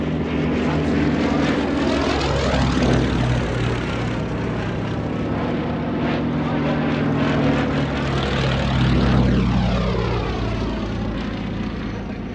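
A Westland Lysander propeller aircraft flies past at an evening air show, its loud, steady engine drone rising and falling in pitch as it passes overhead, continuous and alone without speech.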